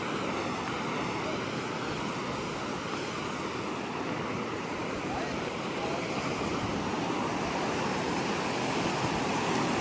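Sea waves washing onto a beach in Oman, a continuous close roar of surf mixed with wind buffeting the microphone, steady and loud throughout.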